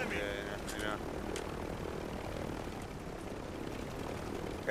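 Helicopter rotor and engine drone in Call of Duty Warzone as the chopper comes in to land, a steady mid-distance hum running the whole time beneath a voice.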